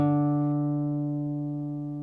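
A single plucked open D (fourth) string on a classical guitar rings out clearly and sustains, slowly fading over two seconds with steady, pure tone.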